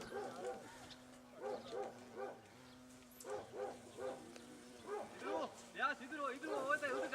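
Dogs bark repeatedly during a hunt, a series of bark bursts in short clusters at moderate distance, with people talking in the background.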